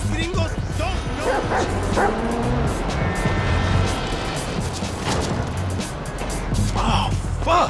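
Dog barking in GTA 5, a series of sharp yips and woofs with a whimper, heard close and repeated irregularly over game sounds and a speaking voice.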